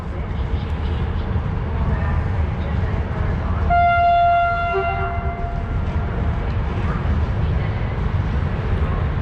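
Trains come and go at Romania's biggest railway station, a broad rumble of rolling stock with a sustained horn blast sounding partway through, under people talking nearby.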